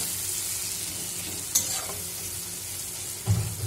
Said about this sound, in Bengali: দেখুন আমাদের পেঁয়াজ টমেটোটা প্রায় ভাজা হয়ে গেছে।